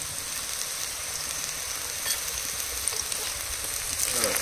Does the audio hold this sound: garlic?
yes